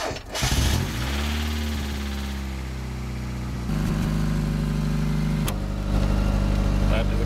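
A 1992 Mazda Miata starts in cold weather on a cold battery. The starter cranks and the engine catches, then it settles into a steady, close idle that rises in pitch and loudness a couple of times.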